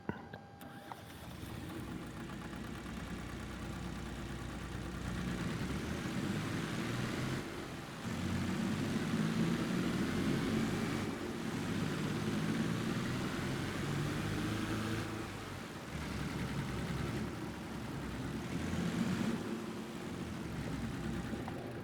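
A continuous 4x4 vehicle engine drone from Farming Simulator 22 rumbles throughout, rising and falling in pitch as it revs, with brief dips, steady and moderately loud.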